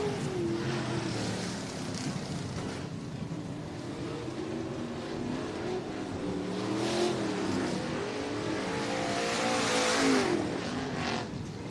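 Race cars roaring around the short oval at Southern Oregon Speedway in Medford, a continuous loud engine drone that swells as cars pass, with crowd-like wash underneath.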